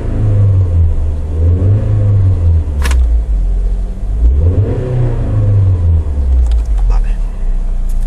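A car engine at standstill revs as the accelerator is pressed, a loud close rumble rising and falling in two surges over a steady idle, with a couple of faint clicks.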